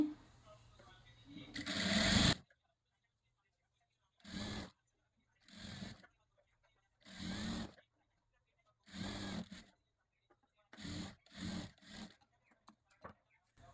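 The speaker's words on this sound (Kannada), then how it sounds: "ಇದಕ್ಕೆ ನಾನು ಮತ್ತೆ ಈಗ ಮೇಲೊಲಿಗೆ ಅಂದರೆ ಟಾಪ್ ಸ್ಟಿಚ್ನ ಹಾಕ್ತೀನಿ" A sewing machine runs a line of top stitching on a Katori blouse in repeated short whirring bursts with silent gaps between them, after an opening stretch where a person speaks.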